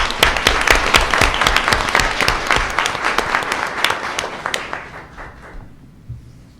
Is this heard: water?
no